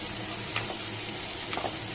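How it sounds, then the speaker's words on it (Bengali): Steady close sizzle of frying in oil in a pan while cooking a hilsa fish curry with potato and eggplant, a continuous hiss with a couple of soft stirring scrapes. "এই দেখো এটা আমি ভাজা ভাজা করে নিচ্ছি"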